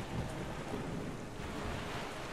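Thunderstorm weather in Zelda Wind Waker HD on Wii U, a steady broadband roar of rain and rumbling thunder with wind, loud and continuous with no voices over it.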